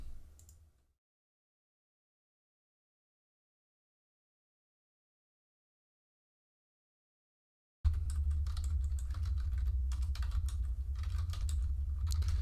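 A brief burst of sound, then several seconds of silence, then continuous rapid clicking of keys on a computer keyboard.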